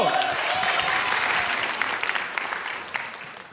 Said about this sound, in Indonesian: Iya udah tepuk tangan sekali lagi untuk Viko